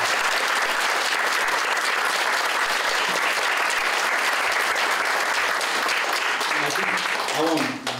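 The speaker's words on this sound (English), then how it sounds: "let's give a round of applause" An audience at a community young-professionals event breaks into loud, continuous clapping that fills the room from start to finish, tapering at the very end as a voice begins to speak.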